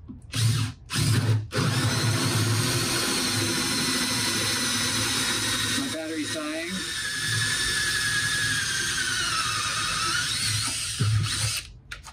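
A cordless drill bores through wood with a loud, sustained whirring grind that runs for several seconds after brief starts, the bit's tone wavering as it cuts before it winds down, with a voice speaking briefly at the start and end.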